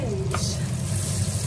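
Garlic and onions sizzle in melted butter and olive oil, a steady close frying hiss with a brief stir partway through.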